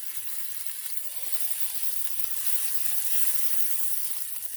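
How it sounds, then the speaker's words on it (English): Butter sizzles and crackles steadily in a hot pan, a soft, continuous hiss with faint popping, heard alone. "Let's watch it fry and sizzle."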